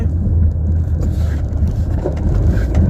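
A vehicle rolls over a sandy interlocking-tile road with a continuous low rumble and road noise. Faint rattles and bumps can be heard throughout.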